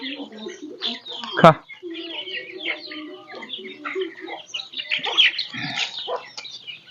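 A hen clucks softly with her chicks peeping around her, close by in a quiet rural setting, with a sharp louder call near the start and a voice talking briefly.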